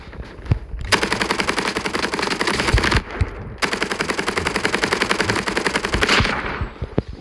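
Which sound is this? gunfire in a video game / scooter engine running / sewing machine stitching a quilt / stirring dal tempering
gunfire in a video game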